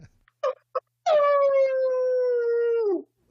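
A person imitates an old hound dog howl: a few short yips, then one long sustained rising-and-falling howl that fades downward at the end, loud and close with no talking.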